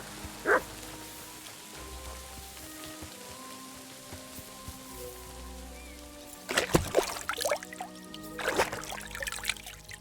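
A dog barks once near the start inside Kingdom Come: Deliverance II, followed later by bursts of rustling and clatter over a steady ambient game soundscape.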